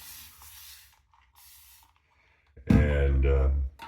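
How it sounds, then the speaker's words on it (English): A spray bottle mists water onto the face before a shave, giving short soft hisses early on, followed by a louder voice at the end. "we're going to wet the face, and what we're going to do today, we're going to go back to our sprayer"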